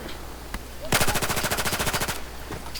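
Rapid automatic gunfire from a close-range rifle with a high rate of fire in Battlefield 4, a dense, loud burst of evenly spaced shots lasting about a second, preceded and followed by quieter battlefield ambience and a single faint shot.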